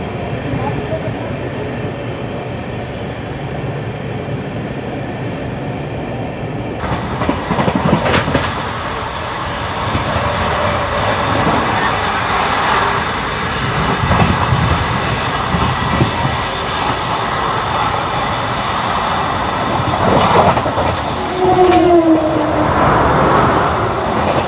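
Mithilanchal Express, a newly introduced LHB-coach passenger train, rolls along the rails toward Naihati Junction with a steady, continuous rumble that grows louder partway through, with occasional squeals and rattles.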